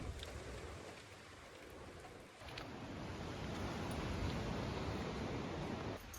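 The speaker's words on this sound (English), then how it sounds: "it's still raining at the moment" Steady rain falls on a grey, grotty day, a dense continuous hiss with a brief dip partway through before it swells again, no voices present.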